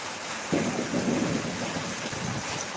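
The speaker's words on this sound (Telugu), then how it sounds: "వర్షం పడుతుంది బాగా" Heavy rain in Tirupati pours steadily with a deep rumble of thunder rolling underneath, continuous and loud throughout.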